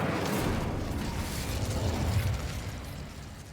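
A fire spell cast in the Hogwarts Legacy video game gives a loud, sustained whooshing roar of flame and magical burst lasting several seconds, slowly fading, with no speech over it.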